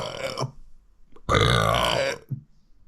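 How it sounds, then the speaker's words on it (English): A person lets out a series of burps: a short one, then a long, loud, drawn-out belch, followed by a brief smaller burp, close and with no other sound between them. "Hence the reason I'm burping up a fucking storm."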